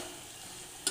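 A bottle gourd curry with ground chilli paste is stirred in a pan, giving a brief, faint, soft sizzle with a light scrape at the very end.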